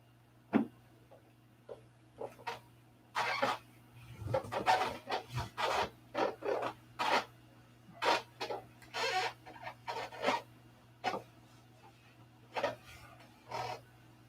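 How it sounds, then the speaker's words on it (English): Hand sanding of a bone to bring up a shine, heard as a string of short, irregular scratchy rasping strokes up close, separated by brief pauses. "The only way to do that is more sanding."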